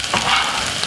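Mixed peppers, tomato, carrot and garlic fry in a pan with seasoning, a close, steady sizzle with a brief stirring scrape, heard alone.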